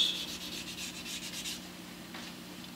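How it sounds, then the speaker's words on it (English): Wet sandpaper rubbed over a guitar's lacquer finish in steady, repeated strokes, a soft close scratching that fades out briefly near the end, with no talking. "Now I'm playing with wet sandpaper. And I'm going through all the grits."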